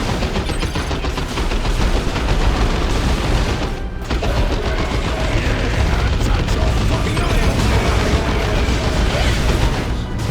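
Space Marine plasma guns fire in Dawn of War 2 amid a dense, loud, continuous battle din of rapid shots, booms and bursts that layer over one another without pause.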